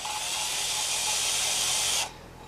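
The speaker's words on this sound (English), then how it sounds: "put it into a drill, and turn the drill on." A power drill spins an engine valve through a length of hose to lap it against its seat, a loud close steady whine with hissing grind that holds for two seconds and then abruptly stops.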